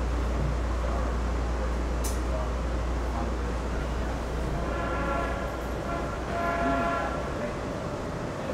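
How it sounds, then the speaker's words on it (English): Steady low rumble of an air-conditioned Miami Metrorail train rolling along rails, with a brief high squeal and faint tonal horn-like notes midway; continuous and fairly loud. "Air conditioned train."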